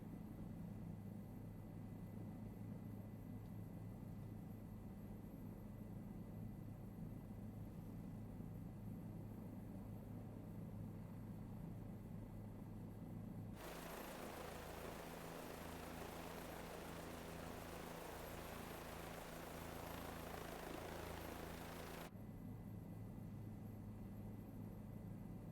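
A video-game helicopter flies over a city, with a steady low rotor and engine drone throughout that swells into a louder, brighter roar midway before settling back to the steady hum. No talking.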